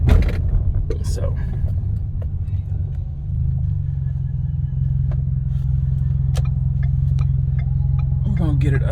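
Inside a 2012 Ford Fusion with a 2.5L engine and a Magnaflow exhaust while driving, a low, steady engine and exhaust drone with road rumble, and brief faint sounds from the cabin.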